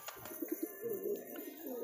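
Soft, low pigeon coos, a few short notes followed by a longer rolling call, faint and close.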